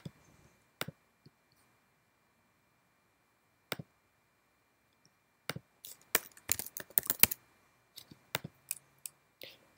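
Sparse clicks and keystrokes on a computer keyboard and mouse, isolated taps early on, then a denser cluster of quick key presses in the middle, close and fairly quiet, with no talk.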